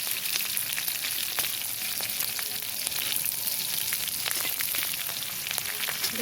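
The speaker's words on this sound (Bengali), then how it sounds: "এবার লঙ্কাটাকেও ভেজে নিচ্ছে মা।" Chillies fry in hot oil with browned garlic, giving a steady, close sizzle with crackling pops throughout and no talking.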